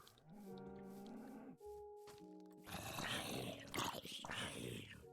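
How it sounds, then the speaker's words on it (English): Cows in Minecraft Legacy edition let out drawn-out, growling moos, one after another. They are loud and close, and a rough, roaring burst fills the second half. "the cow sounds are like a lot more aggressive in this version"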